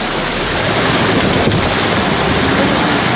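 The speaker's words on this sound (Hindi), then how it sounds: "इतना खतरनाक बहाव है पानी का" Dangerous, rushing river water beside a jungle track where a car is stuck: a loud, constant roaring wash mixed with wind buffeting the microphone, steady throughout.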